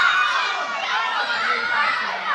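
A wrestling crowd at a Rumble Wrestling championship match shouts and cheers steadily throughout, a dense, continuous roar of voices with higher-pitched yelling mixed in.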